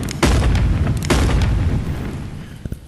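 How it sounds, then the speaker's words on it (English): Heavy gunfire in the video game Animal Company: two loud, booming shots in quick succession, each followed by a long rumbling decay. "Well, I just used my gun."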